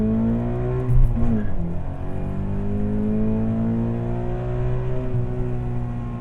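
Scion FR-S with a tuned ECU flash revving through a first-gear pull to 8,000 RPM, steady rising engine harmonics heard from inside the car, loud and continuous with a brief dip and shift-like blip.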